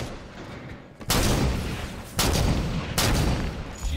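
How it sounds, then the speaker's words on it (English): Bursts of heavy gunfire in a Halo sniper match, three loud, broad blasts that cut in abruptly and stay dense and close, with no talking. "Why am I getting shot at?"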